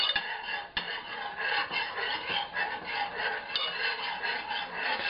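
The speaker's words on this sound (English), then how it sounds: "Now you want to stir this until it gets nice and dissolved." Spoon stirring dextrose into boiling water in a pot while brewing an oatmeal stout, a continuous soft scraping and swirling with one sharper clink near the start, fairly quiet throughout.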